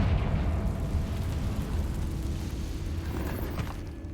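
Confringo spell explosion in Hogwarts Legacy: a deep, rumbling blast with crackling debris that sustains as a low roar and slowly fades, no voices.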